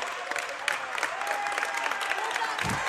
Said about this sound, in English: Now the Western Reserve crowd really just clapping right now.